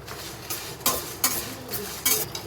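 Coriander seeds roasting dry in a pan for puliyotharai rattle and rasp in short bursts as a spoon scrapes through them, about five quick strokes over a soft background hiss.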